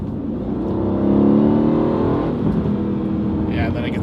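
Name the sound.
Aston Martin twin turbo V8 engine revving in sport mode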